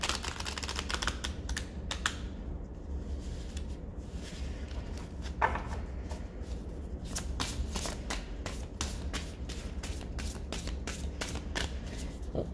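Cards riffled and shuffled repeatedly, a rapid flurry of papery clicks and flutters in bursts, close up with no talking.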